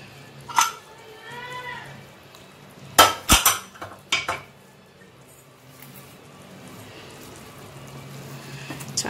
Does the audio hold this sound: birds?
no